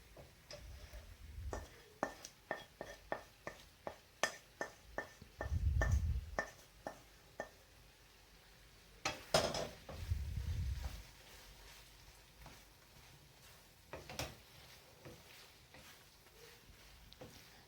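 Spatula clicking and scraping against a pan as fried prawns are stirred into a spicy prawn thokku, a brisk series of close sharp ticks with a couple of low thuds between them.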